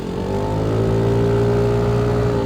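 A Kymco G7 scooter pulls hard at full throttle, its engine note rising smoothly in pitch over a couple of seconds, loud and close with no talking.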